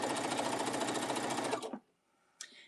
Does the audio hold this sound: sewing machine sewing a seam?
yes